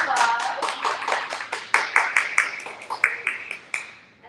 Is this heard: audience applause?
yes